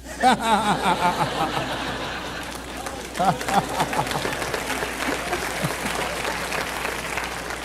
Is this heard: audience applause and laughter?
yes